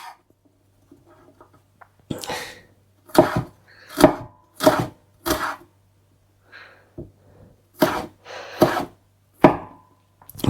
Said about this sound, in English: Chop, and the 3rd one will be cut into thin stripes